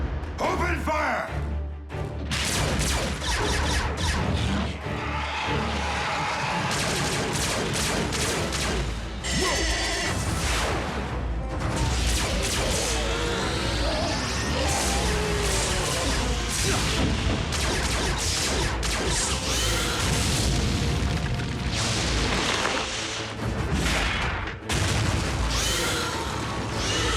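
Animated Transformers Prime robots fire weapons amid crashing explosions, a dense, continuous barrage of booms and blasts running loud throughout with voices mixed in.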